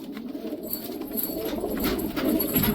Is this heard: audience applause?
no